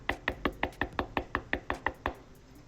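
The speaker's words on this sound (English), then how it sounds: "So I knocked on the door." Knuckles rap on a door about a dozen times in a steady, even rhythm, each knock sharp and close, with no voices.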